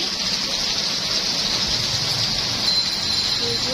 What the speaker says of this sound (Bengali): এই যে বাইরে বৃষ্টি পড়ছে